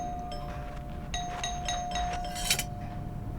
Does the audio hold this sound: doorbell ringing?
yes